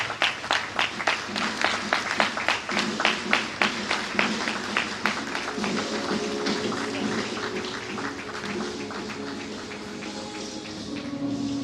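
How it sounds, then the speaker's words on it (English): An audience applauds at an induction ceremony for new members. Dense, steady clapping is loud at first, then thins and softens into a lighter patter toward the end. "A round of applause for him"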